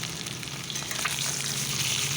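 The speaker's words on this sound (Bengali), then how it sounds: "কড়াইতে সরিষার তেলে আমি ডিম ছেড়ে দিয়েছি হলুদ লবণ দিয়ে।" Eggs seasoned with turmeric and salt fry in mustard oil in a wok, a steady close hiss and crackle that stays dense and even throughout with no talking.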